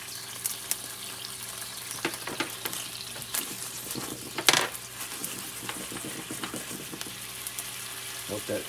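Fresh lemon juice sizzles in a reducing beurre blanc sauce, a soft crackling fry with faint stirring clinks and a brief splash, quiet and steady throughout.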